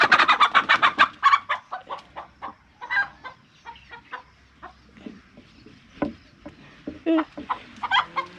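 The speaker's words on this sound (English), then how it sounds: "This chicken is the notorious one." A chicken clucks and squawks in agitated bursts while being chased around village land in Africa, loud and close at first, then continuing in scattered, uneven calls.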